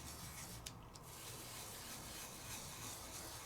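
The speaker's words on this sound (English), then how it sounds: "So I'm just going to take my time and burnish all the way around them" A burnishing tool rubs firmly around adhesive masks on a craft project, a continuous close scratchy scraping with a brief pause near the start, heard alone.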